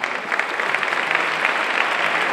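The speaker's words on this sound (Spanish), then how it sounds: "Un aplauso para ellos." A crowd at an evening band gathering in Santa María de Guía applauds the participating bands, a dense, even roar of clapping that holds steady throughout.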